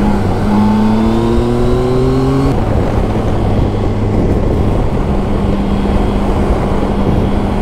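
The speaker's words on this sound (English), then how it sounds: "The bike gets right on its brakes and it does bring you gently down" A Yamaha Tracer 900 GT motorcycle slows under its own automatic braking behind a tractor. A loud, close engine drone and steady wind rush fill the stretch; the engine note climbs briefly, then drops to a lower, even hum as the bike eases down.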